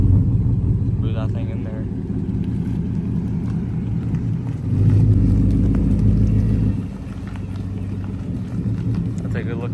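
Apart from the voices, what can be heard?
2024 Mustang GT engine warm start, muffler delete H pipe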